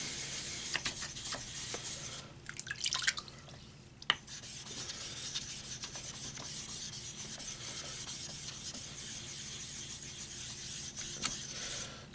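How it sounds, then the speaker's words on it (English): A knife blade is cleaned on a small Chaucer Niagara sharpening stone, giving a steady close-up scraping and rasping of steel on stone in repeated strokes, with a brief pause and a single sharp click partway through and no talking. "Here's a little Chaucer Niagara stone, just to clean this guy off a little."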